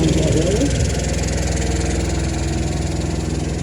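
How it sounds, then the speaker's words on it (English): A miniature diesel-hydraulic locomotive, number 7054 built in 2004, running at a light railway gala, its engine a steady throbbing idle heard close, with a voice talking over it. "She's a diesel hydraulic, much like her full-size high neck counterparts"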